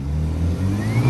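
A BMW 428i and an Audi A3 accelerate side by side in a roll race from about 10 mph, heard from inside a car as a loud, steady engine drone climbing in pitch, with no talk over it.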